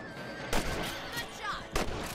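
Gunfire aimed at rabbits in Red Dead Redemption: two sharp broadband shots about a second apart, over a steady game ambience with brief chirping.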